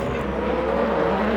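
Rear-wheel drive BMW touring car racing at Thruxton, a steady loud engine drone holding a sustained high pitch throughout, with no talking.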